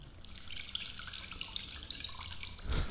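Running water, like a faucet filling a sink, trickles and drips steadily at low volume for a few seconds, with a brief louder splash near the end.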